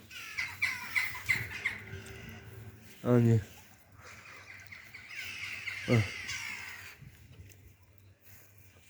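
Harsh bird squawks and caws ring out repeatedly, with two loud croaking calls standing out, while a person speaks softly nearby.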